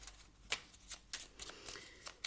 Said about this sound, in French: On va aller chercher une petite carte de l'oracle de Merlin.